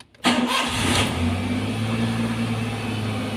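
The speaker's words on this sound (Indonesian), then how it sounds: "Kita hidupin mesinnya, kita kocok-kocok" A car engine cranks briefly and catches during brake bleeding, then settles into a loud, steady idle with a low rumbling hum.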